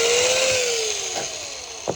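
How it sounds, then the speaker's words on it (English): A power drill bores a hole through a kendama, giving a steady high whine with a slowly falling pitch as it bites into the wood, plus a couple of brief louder grinding bursts, heard alone and close. "start slow, and then drill it out"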